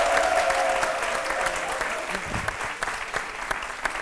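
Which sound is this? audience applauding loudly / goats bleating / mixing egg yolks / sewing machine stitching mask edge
audience applauding loudly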